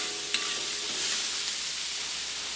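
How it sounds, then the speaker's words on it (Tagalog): Onion, tomato and garlic sizzle steadily in hot oil in a pan, a bright continuous frying hiss broken by a couple of faint scrape-like stirs. "Hayaan mo natin na mag-gisa-gisa."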